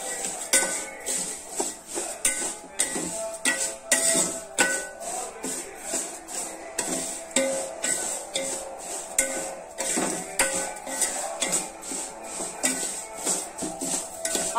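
Vermicelli for caramel payasam is stirred and fried in a pan, with a busy, continuous run of metallic scrapes, clinks and rattles of a spoon against the pan, fairly close, without speech.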